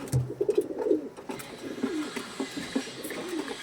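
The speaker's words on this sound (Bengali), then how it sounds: "একদম পিওর কালপোড়া কালদমের পায়রা।" Pure-bred pigeons coo in soft, repeated low throaty pulses, close by and steady, with no talking.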